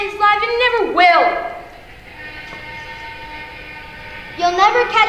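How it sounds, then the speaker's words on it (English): A train arrives as a stage sound effect in an elementary school production, with a loud horn blast, then a steady rumbling roll and another horn call at the end. "There's your train now."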